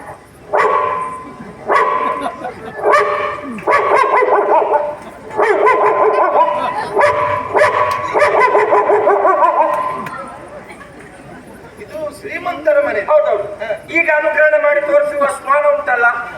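At a Yakshagana performance, a man loudly imitates a rich household's dog, giving a rhythmic series of bow-wow barks, then shifting into higher yelping and whimpering sounds.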